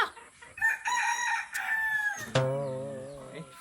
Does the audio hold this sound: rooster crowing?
yes